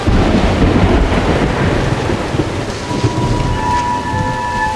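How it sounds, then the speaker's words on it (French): Steady heavy rain pours across a broad wash of noise with rolling thunder rumbling low throughout, a dense, continuous tropical storm in the Amazon jungle with no voices. "il provoque un orage"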